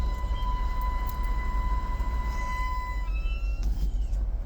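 A 2011 BMW 328i E90 with the 3.0-litre N52 engine, running hot with a failing water pump, gives a steady high-pitched whine over low engine rumble that drops and slides down in pitch as the engine is shut off.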